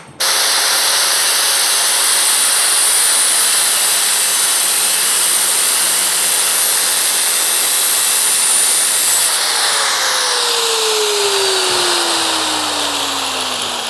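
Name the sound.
cutting exhaust pipe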